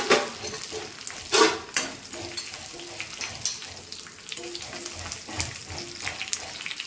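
Dried red chillies and curry leaves fry in hot oil, a close, steady sizzle broken by scraping stirs and a louder burst of spattering near the start, with no speech over it.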